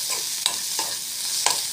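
Spiced food sautéed in a pan, a steady soft sizzle broken by a few sharp scrapes of a spoon at irregular intervals.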